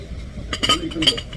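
Broken wine glasses and drinking glasses clink and chink as they are handled during dumpster diving in Korea, a few bright rattling taps close by with faint background noise.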